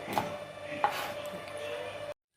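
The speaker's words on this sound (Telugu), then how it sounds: "ఆనియన్స్ అండ్ పచ్చిమిర్చి కూడా ఇలా చిన్న చిన్నగా కట్ చేసుకోవాలి" Onions and green chillies are chopped into small pieces on a board, with a couple of close knife taps over a short stretch of kitchen background before the sound cuts off.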